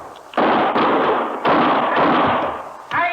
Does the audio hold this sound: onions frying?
no